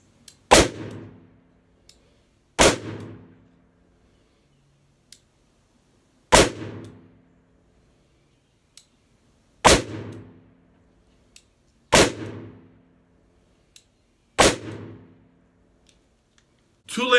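Colt Python revolver firing Winchester .357 Magnum 158-grain hollow-point rounds double action, six loud sharp shots spaced two to three seconds apart, each followed by a brief ringing decay, with faint clicks between.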